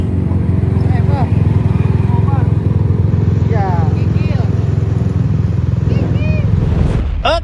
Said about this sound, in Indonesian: motor ADV ini si knalpotnya itu ya belum maksimal